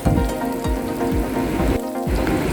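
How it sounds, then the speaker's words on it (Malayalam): Green chili, garlic and ginger sizzling in a hot pan for a Malayalam-style fish curry, a steady loud crackling fry with a few soft clinks, no voices. "പച്ചമുളക്, വെളുത്തുള്ളി, ഇഞ്ചി, ആ മിക്സ് എല്ലാം കൂടെ നമുക്ക് അതിനകത്തേക്ക് ഇട്ട് കൊടുക്കാം. അപ്പോൾ ഒരു നല്ലൊരു സൗണ്ട് വരും."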